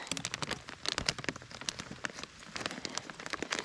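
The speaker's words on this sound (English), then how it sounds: "And now it's raining even more." Steady rain pattering through a forest during a first thaw, with dense drops spattering on leaves and surfaces, close and fairly loud, continuous across the whole stretch with no talking.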